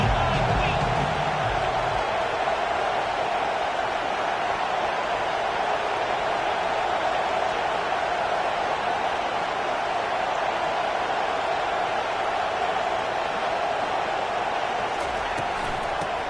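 A video game stadium crowd roars steadily throughout an American football match, forming a dense, sustained wash of cheering that stays at an even level beneath a commentator's voice.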